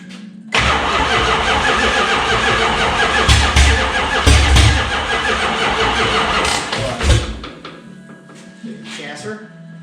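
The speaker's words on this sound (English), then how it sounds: "go ahead and crank it" A Dodge Challenger under restoration cranks and fires, its engine catching into a loud, rough run that surges a few times, then cuts off near the end, with voices talking over it.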